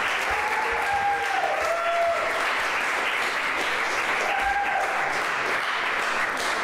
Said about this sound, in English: How about a rousing round of applause?